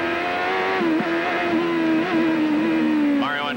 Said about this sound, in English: Andretti trying to close on Ari Lyondike.